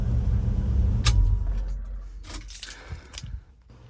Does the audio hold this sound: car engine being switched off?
yes